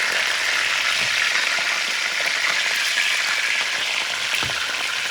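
Chorizo sausages for choripán sizzling in a hot pan, a steady, even crackle and hiss that carries on without a break, close and fairly loud, with no voices.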